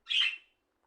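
A single short bird squawk, the sound effect from a snake game being played, bursts out clearly and fades within a second, with nothing else around it.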